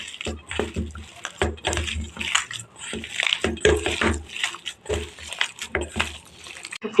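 Mashed sweet potato, with powdered milk and flour worked in, is kneaded by hand for a date-jaggery sweet: irregular wet squishes and soft pats, close, in short uneven bursts.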